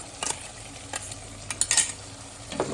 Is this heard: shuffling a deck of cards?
no